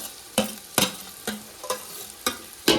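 Tomatoes and chopped potatoes in a hot pan, stirred with six evenly spaced scraping strokes over a low, steady sizzle, close and clear with no voices.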